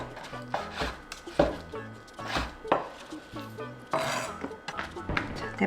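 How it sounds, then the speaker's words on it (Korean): A knife julienning four dried shiitake mushrooms on a cutting board, a series of crisp, irregularly spaced chops at moderate volume, with a background tonal hum. "포고버섯, 건포고 4개 올렸어요. 이렇게 채 썰어줄게요."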